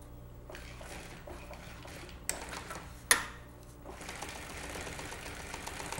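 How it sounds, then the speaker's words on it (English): A sewing machine hems a pocket on a convertible top, running with a steady low mechanical whir, punctuated by a couple of sharp clicks, with no talking. "bring the other end of the pocket around and sew right off onto it"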